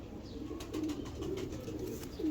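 A pigeon coos softly in low, rounded phrases against a steady background murmur, with a slightly louder coo at the very end.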